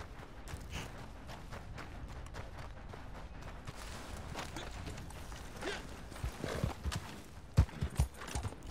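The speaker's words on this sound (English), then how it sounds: "Oh, now my horse has found me." Rhythmic clip-clop of horse hooves drawing closer over a noisy game background in Red Dead Online, with a few louder thuds near the end.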